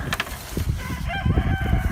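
Hens cluck and crow close by among brooder boxes in a chicken coop, several short, loud calls in quick succession over faint rustling.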